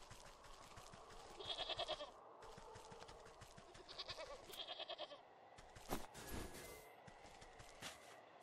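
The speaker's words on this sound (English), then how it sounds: "Mountain goats. A shaggier cousin of the familiar goat." A mountain goat in the video game Wytchwood gives short, pulsing bleats in a few bursts over a steady game background, with a louder rough burst near the end.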